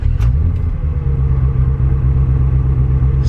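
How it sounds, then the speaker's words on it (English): A Ferrari 360 engine with a transmission fault rumbles steadily at idle, low and loud throughout, with a faint high whine creeping in at the end. "watch this, we start the car"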